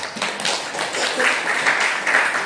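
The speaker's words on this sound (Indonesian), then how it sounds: "Oke, tepuk tangan." A classroom group gives a short burst of clapping after a presentation on tolerance, close and fairly loud over a brief stretch.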